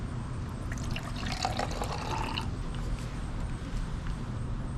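Water pours from close by into lime juice in a shaker bottle, a bright, splashy trickle that peaks midway and then settles into a softer, steady fill.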